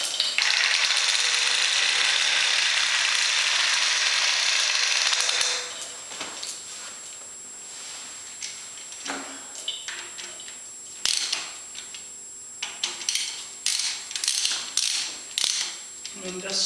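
Clicking of a ratchet tightening bolts during reassembly of an American Pacemaker lathe, a run of irregular ticks and metallic clacks in a workshop after a steady mechanical hiss at the start.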